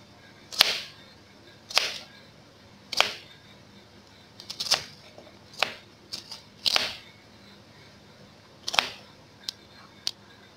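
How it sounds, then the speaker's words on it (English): A knife cuts through an onion in a kitchen, giving about a dozen crisp, separate chops spaced irregularly over several seconds, close and clear with no talking. "cut my onion"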